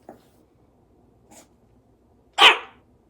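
A dog gives a single sharp bark indoors, preceded by a couple of faint soft sounds, in an otherwise quiet room.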